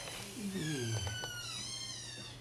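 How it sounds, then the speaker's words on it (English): A litter of tiny shelter kittens mews in thin, high rising-and-falling cries, several overlapping calls close by, with a soft voice briefly murmuring underneath. "we have an adorable litter of kittens back here right now"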